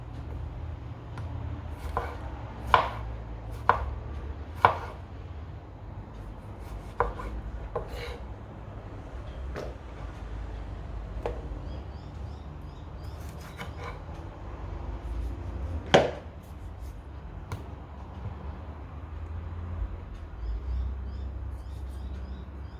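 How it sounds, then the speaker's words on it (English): Tomatoes being diced with a slightly dull kitchen knife on a cutting board: sparse, irregular knocks and taps, some louder than others, over a quiet background hum with no talking. "So we're just dicing up the tomatoes, and my knife might need a little bit of sharpening there."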